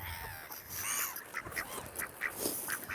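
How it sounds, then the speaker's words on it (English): Ducks on a mountain tarn give several short quacks spaced through the clip, heard outdoors over wind and water noise at moderate distance. "They're beautiful birds."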